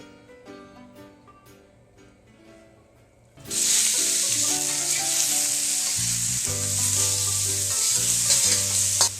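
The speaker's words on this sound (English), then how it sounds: "we're going to heat up our wok and add a teaspoon of oil, and we're going to brown and drain the beef" Beef hitting hot oil in a wok bursts into a loud, sustained sizzle after a quieter opening, with stirring and utensil clatter continuing over the frying.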